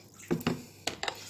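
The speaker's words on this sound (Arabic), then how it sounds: "هحط عليها ميه." Water poured over seasoned fish before baking: a few short splashing pours, two close together then two more after a brief pause, near and fairly soft, with no speech.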